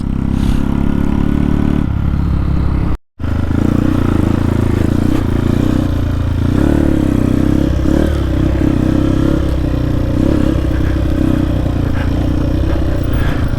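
A Honda XR motorcycle ridden off-road in Moab roars close by with a continuous engine note that rises and falls with throttle, plus rattling clatter. The sound breaks for a brief instant before resuming.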